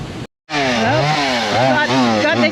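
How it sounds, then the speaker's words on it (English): A chainsaw at a bush campsite roars close and loud, starting after a brief gap and holding a steady, high-revving drone with slight pitch wavers. "Got the chainsaw working."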